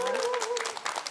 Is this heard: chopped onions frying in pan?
no